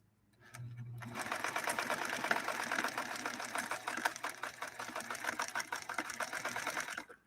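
A Necchi Lelia 512 sewing machine stitches a tight zigzag, its needle running in a steady, fast, even clatter that starts after a short pause and carries on loud and close for about six seconds with no talking.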